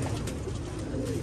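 A female pigeon coos close by in a steady low murmur, with no talk over it.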